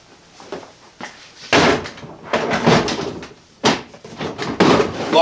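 A Ryobi Link mobile tool storage box is latched closed, with several sharp plastic clacks and thumps spaced over a few seconds, close and fairly loud.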